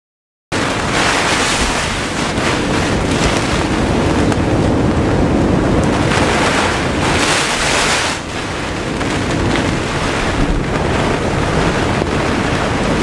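Loud, relentless wind from Tropical Cyclone Debbie roars and buffets the microphone aboard a sailboat, with crashing waves and water surging underneath, sustained throughout with brief gusting swells.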